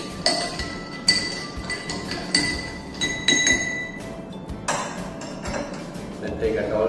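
Ice cubes clink against a glass while a rum and orange juice cocktail is mixed, giving a run of bright chinks and rattles, some clustered and some spaced, over a steady low background.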